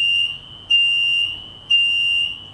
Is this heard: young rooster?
no